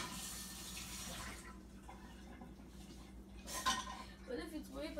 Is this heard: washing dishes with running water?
yes